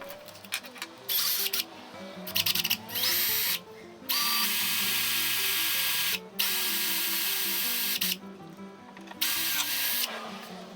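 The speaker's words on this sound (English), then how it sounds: "with this metal drilling fairly slowly, it wasn't really needed" A power drill whirs in several bursts through metal, starting and stopping repeatedly, its motor pitch dipping under load between short quiet pauses.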